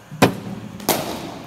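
Two sharp cracks of a cricket bat striking the ball, about two-thirds of a second apart, each loud, close and ringing briefly, with no talk over them.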